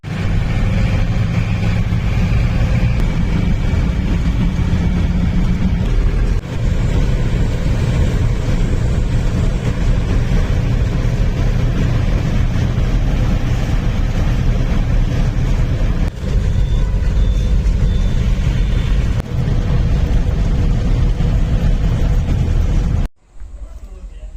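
A car drives along with a steady engine hum and road rumble, heard from inside the cabin. The sound stays loud and even, then cuts off abruptly near the end.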